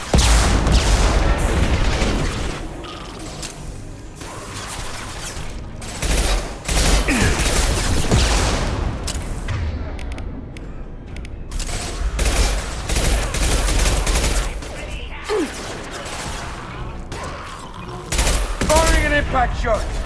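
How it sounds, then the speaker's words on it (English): Heavy weapon gunfire and explosions in the video game Mass Effect 2, a dense, continuous barrage of shots and booming blasts with loud bursts throughout, mixed with shouted combat voices. "Heavy weapon, get down!"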